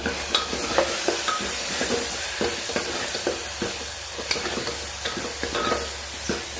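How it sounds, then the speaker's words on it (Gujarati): Red chili powder, turmeric and salt are stirred through a pan, with a spoon scraping in repeated soft strokes over a steady low sizzle and faint hiss, close and moderately loud. "સરસ મિક્સ કરી લઈએ."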